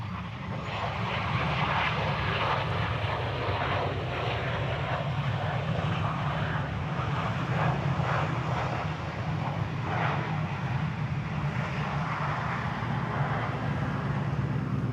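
Airliner departing Honolulu airport roars steadily with a broad, continuous jet engine rumble, loud and sustained throughout with no talk over it.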